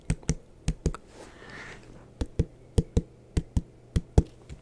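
Knocking and tapping on a hard surface, about a dozen sharp, close knocks in small uneven clusters with brief pauses between them, in a quiet room with no talking.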